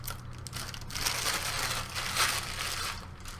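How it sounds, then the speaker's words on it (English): Tape being pulled and peeled off the plastic packaging of a Razer BlackWidow Ultimate 2013 keyboard, a continuous crinkling, tearing rustle up close over a low steady hum. "Looks like there's some tape here. Pulling that off this way."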